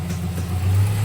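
Subaru Impreza with a 2.5L engine and automatic transmission during a transmission fluid service, the engine humming at a raised, steady rev, swelling slightly toward the end.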